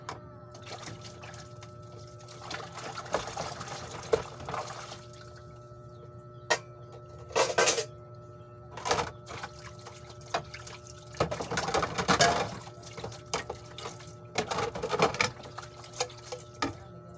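Dishes being washed under running water at a home sink, faint trickling with intermittent clinks and scrubbing bursts, quiet and uneven, no talk.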